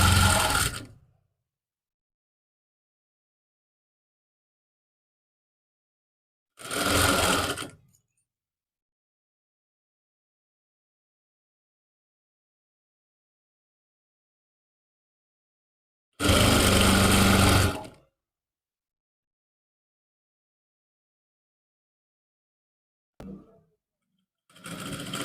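A sewing machine stitches a suit in four separate bursts, each lasting about a second, with silence between them. The machine runs loud and close, and nobody speaks.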